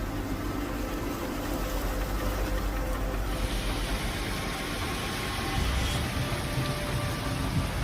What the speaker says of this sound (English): Heavy rains hit Japan.